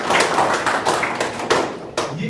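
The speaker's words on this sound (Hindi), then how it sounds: "एक जोरदार ताली बजाओ मेरे लिए" Loud, sharp claps from a classroom full of schoolchildren at an Indian school, a dense burst of hand claps that pulses and swells over a couple of seconds with a roomy, close sound.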